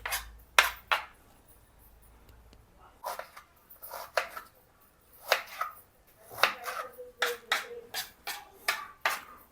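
Onions being chopped with a knife on a cutting board in a home kitchen: crisp, close knife strikes come in irregular bursts of several quick chops, separated by short pauses.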